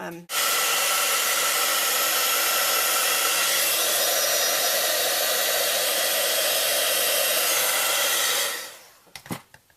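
A craft heat tool used for embossing on a stamped project blows a loud, steady, hair-dryer-like whoosh for about eight seconds, then switches off, followed by a few small handling knocks.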